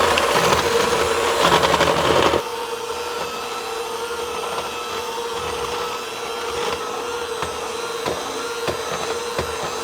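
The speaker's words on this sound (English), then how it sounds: "we're gonna use the hand mixer and we're just gonna beat these together until they're light," Electric hand mixer beating baking ingredients together, a steady close whirring drone that drops to a lower, softer hum after a couple of seconds and then runs on evenly without speech.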